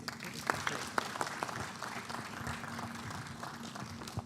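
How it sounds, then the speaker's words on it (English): Audience applause at an annual members' meeting, a steady wash of many hands clapping at a moderate distance, fairly faint and continuous with a few sharper claps standing out. "another big round of applause for the Honorable Minister of Finance"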